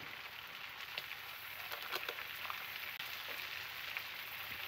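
Mushrooms frying in a pan with chicken adobo produce a faint, even sizzle and crackle, with a few soft clicks from the pan and no voices.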